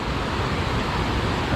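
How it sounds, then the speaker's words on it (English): A river flows past in a steady, broadband rush of water, continuous and fairly close, with no voices over it. "So this river flows down from Pontuid"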